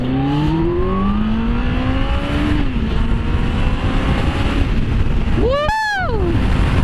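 A Kawasaki ZX-14R motorcycle engine revving on the road, with a rising pitch early on, then a sharp rev that climbs and falls near the end under steady wind rush.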